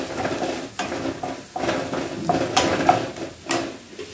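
Fennel powder and garam masala being stirred into a pan of soya filling for paratha, giving steady scraping and stirring sounds with a faint sizzle and light clinks of utensil against the pan, close and without talk.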